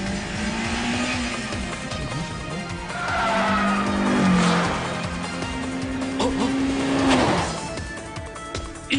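A race car in an anime climbs a mountain pass on Akina with a loud engine drone, rising and falling revs and repeated tire squeals and skids through the corners, with no voices over it.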